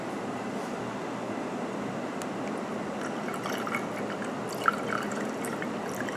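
Mezcal poured into a cocktail glass holding lime and coconut water, a faint, steady trickle with scattered drips and one small clink near the end, close and without speech.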